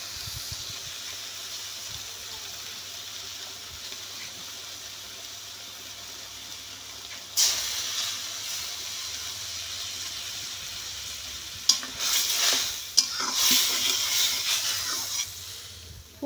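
Spice-paste water splashes into a pan of frying okra, raising a sharp steamy hiss that swells for a few seconds, then a second, louder hissing burst follows with bubbling sizzle, close and without talk.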